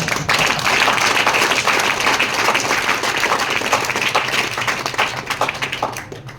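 Audience applause filling a hall, steady dense clapping from many hands that carries on for several seconds and tapers slightly near the end.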